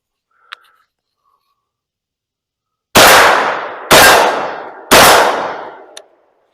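Three loud, close shots from a semi-automatic modern sporting rifle at a range, spaced about a second apart, each with a sharp crack and a decaying echo, preceded by a small metallic click and followed by a faint clink.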